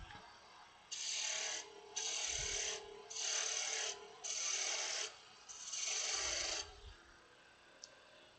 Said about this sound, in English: Grabbing my smaller roughing out gouge here to finish this off